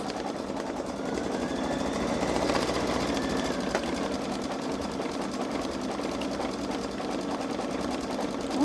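A Babylock Solaris Vision embroidery machine stitches out a design with a rapid, continuous mechanical whir and needle chatter, close and steady for the whole stretch with no talk.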